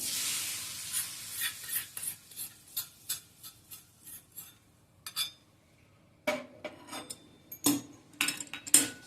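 A spoon stirring cooled tempering into a vegetable pickle in a bowl, giving repeated soft scraping and clinking strokes, close and fairly quiet, with sharper knocks toward the end.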